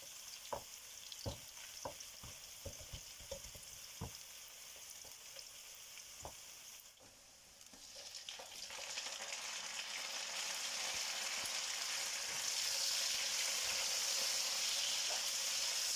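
Onions frying in a pan in a small home kitchen, heard as a steady close sizzle with sharp clicks and stirring knocks early on, then a broader, louder hiss that swells and holds to the end, with no talking.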